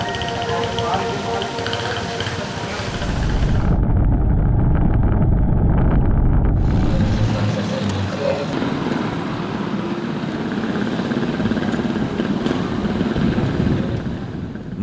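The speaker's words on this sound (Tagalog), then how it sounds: "Hiniram lang ni Jason ang motorsiklo para makabiyahe papunta sa bayan." A motorcycle carries a rider along a road to town, its engine rumble steady and close amid wind buffeting and road noise, with a person speaking over much of the ride.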